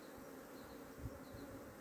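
Honeybees at an opened hive in Adana in April give a steady, close buzzing drone that holds throughout without a break, with no voices.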